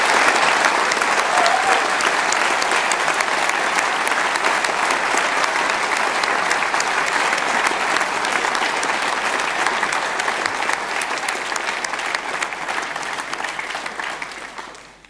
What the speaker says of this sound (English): So please, a very special thank you and a very, very warm applause for our 52 amazing sponsors.